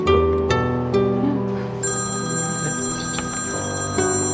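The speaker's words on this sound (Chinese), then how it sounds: "不好意思啊，我去接个电话" A telephone rings indoors, a repeating electronic ringtone with a steady melodic pattern, fairly loud and close, with no one speaking over it.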